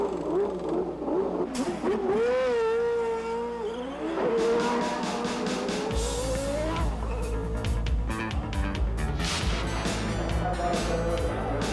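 Indy race cars at the 1990 Indianapolis 500 roar around the track behind a Chevy Beretta pace car, engine whine rising and falling as the field passes, loud and layered with crowd and track noise.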